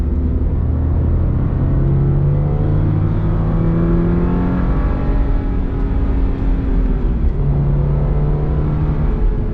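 A car engine drones loud and close while lapping a track on R888 tyres, rising and falling through revs in long sweeps with a brief dip before pulling up again, with no voices.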